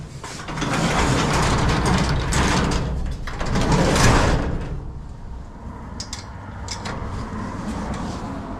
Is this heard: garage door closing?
yes